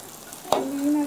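A Thai omelette, khai jiao, frying in a pan with a steady close sizzle, a sharp crackle midway and a rising hiss toward the end.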